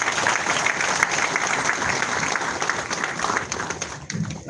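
Audience applauding at a Nigeria Customs Service event, a steady dense wash of clapping from a large crowd that holds throughout and thins slightly near the end.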